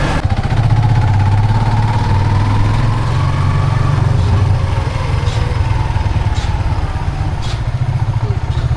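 A motorcycle engine runs loud and close, holding a steady throbbing idle with a rough mechanical rattle that continues without a break.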